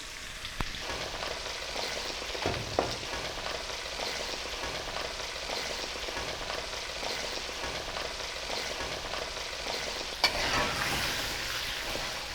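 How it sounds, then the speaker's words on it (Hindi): Chicken with garlic and spices roasting in a hot karahi, a steady close sizzle and frying crackle throughout with occasional stirring scrapes and clinks, no talking. "चिकन को हम मसालों के साथ रोस्ट करेंगे।"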